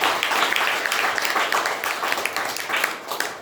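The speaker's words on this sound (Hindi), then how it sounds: "एक बार अपने अपने और अपनों के लिए जोरदार ताली दोस्तों।" Seminar audience clapping together in a steady, dense wash that stays loud and near for the whole stretch, with no voices over it.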